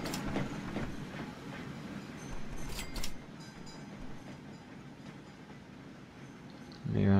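Trains pull into a busy station in the rail-management game Train Fever, with rolling rumble and wheel clatter that swells and fades, followed by a louder rush at the very end.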